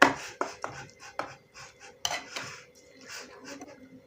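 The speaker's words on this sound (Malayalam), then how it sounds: "ചട്ടുകം കൊണ്ട് നന്നായി ഇളക്കി യോജിപ്പിക്കുക." A spatula stirs jackfruit mixed with melted jaggery for chakkayada, giving a series of sharp scraping knocks against the pan at an uneven rhythm, close and moderately loud with no speech.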